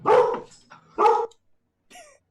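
A dog barks twice, loud and close, then gives a shorter, fainter yip after a pause, with silence between the calls.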